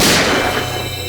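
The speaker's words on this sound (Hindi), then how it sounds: "सर, गोली चलने की आवाज?" A single gunshot in a TV crime drama: one loud, booming blast at the very start that decays into a rumbling tail, alone with no talk.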